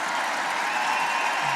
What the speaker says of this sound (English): as you might imagine from the cheers from the crowd